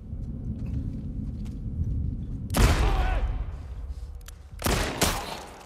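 Gunfire in The Last of Us Part II during a fight on Capitol Hill, with a sharp nearby shot ringing out over a rumbling background, followed by two more quick shots, all without speech.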